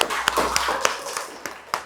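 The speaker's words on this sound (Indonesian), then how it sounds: "Kita beri tepuk tangan untuk diri kita sendiri." Classroom students clapping for themselves, a handful of sharp, scattered hand claps spread irregularly over about two seconds, fairly faint and roomy with no talking.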